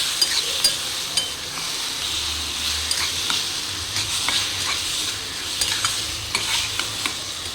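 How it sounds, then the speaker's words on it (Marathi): Eggplant being stirred into fried onions in a pan for bharit: continuous close sizzling with repeated light scraping and clinking strokes of a spoon, steady throughout and without speech. "आता हे वांगं मी ह्याच्यात सगळं घालणार आहे. मस्त हलवून घ्यायचं."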